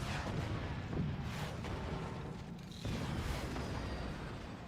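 Cannon fire blasting an opponent's base in the physics strategy game Forts, a steady rumble of booming shots and crumbling structure, loud and continuous with a fresh burst of impacts near the end.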